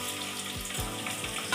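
Whole spices such as cloves sizzling and frying in hot oil for chicken biryani, a steady close crackle with a faint stir, no talking.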